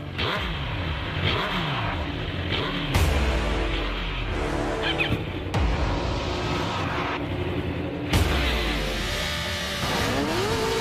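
Several 1000 cc superbikes, a Kawasaki, Suzuki, Yamaha and Honda, rev and launch off the line in a drag race, with repeated rising engine sweeps and gear changes, loud and close, with no talking.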